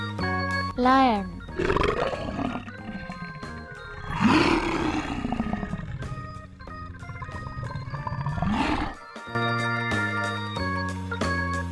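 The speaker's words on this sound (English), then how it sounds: "Lion." Lion roars from a children's animal-names toy segment, several long rising-and-falling roars repeated over a steady musical backing, loud and upfront.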